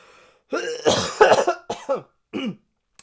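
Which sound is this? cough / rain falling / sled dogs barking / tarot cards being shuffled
cough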